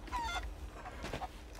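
Short clucking calls from a chicken in Sea of Thieves, several quick squawks scattered over a low rumbling background, moderately loud.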